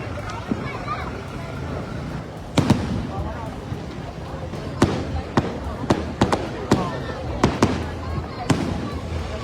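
New Year fireworks in Sri Lanka, a string of sharp bangs and cracks at irregular intervals over a constant crowd-and-wind rumble, with someone talking throughout.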